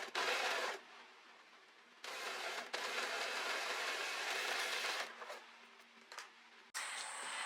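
An overlocker serging the edges of linen fabric for a pair of shorts, a steady mechanical whir that starts and stops in several bursts, close and fairly loud with short pauses between runs.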